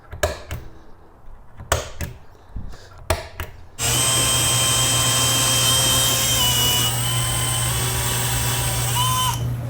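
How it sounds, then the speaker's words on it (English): A handheld drill with a Forstner bit bores holes in metal mounting brackets for a box truck camper bed, after a few sharp taps, then runs as one loud, steady, close whine for several seconds. "I just took my drill with a Forstner drill bit and drilled a bunch of holes"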